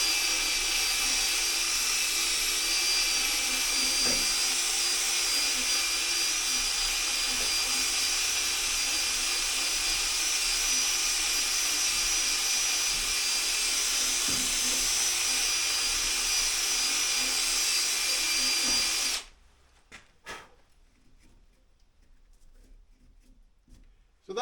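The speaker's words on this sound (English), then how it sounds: "I got that wire brush on a drill, right?" Drill-driven wire brush scrubbing rust on a 1963 Hillman Super Minx, a loud continuous high whir for most of the stretch that stops abruptly, leaving faint clicks and handling noise.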